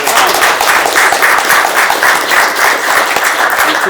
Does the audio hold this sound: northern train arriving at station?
no